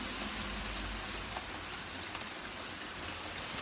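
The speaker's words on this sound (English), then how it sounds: "it's quite nice to just hear the rain" Steady rainfall pattering on surfaces nearby, a constant hiss of drops with occasional louder splashes and no voices.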